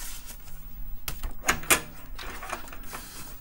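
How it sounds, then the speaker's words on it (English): Floppy disks being pulled from the drives of a Kaypro II computer: a few sharp mechanical clicks and clacks from the drive latches and disk sleeves, close by, over a low room hum with no talking. "So let me pull these disks out."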